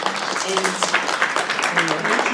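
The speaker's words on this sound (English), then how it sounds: "I would ask us to clap for Mugambi and Mudoni clap." An audience at a press club event on women cultivating opportunity claps for two guests. Dense, steady applause fills the room at close range throughout, with a voice faintly underneath.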